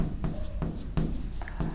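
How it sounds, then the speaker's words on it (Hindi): Marker strokes on a lecture board while an environmental engineering lesson on chlorination dosing goes on, several short scratchy bursts in an uneven rhythm, fairly close and clear with no talking over them. "तो ये भी मैं यहां लिख देता हूं"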